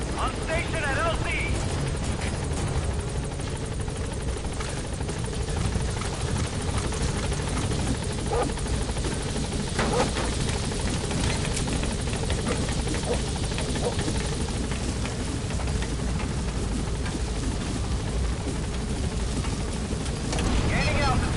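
Pequod, the transport helicopter in Metal Gear Solid 5, arrives at a landing zone with a steady, loud rotor thrum and engine roar that continues without a break. A radio voice talks over it.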